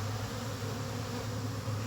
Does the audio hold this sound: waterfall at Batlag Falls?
no